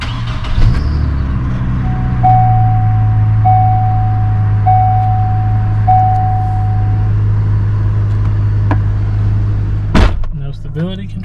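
A GM vehicle's engine starts and settles into a steady low idle, with a repeating warning chime sounding several times early on and a door slam near the end.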